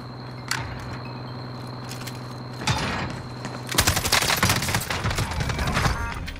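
A gunfight in the Warzone video game, with rapid automatic gunfire bursting in close and loud, building into dense sustained volleys over running footsteps and game ambience.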